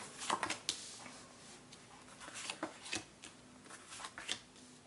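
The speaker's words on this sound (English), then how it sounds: "We could just shuffle all day long with this deck." Tarot cards shuffled in a riffle-like rustle of quick flicks and soft riffles, close and fairly quiet, with no voices.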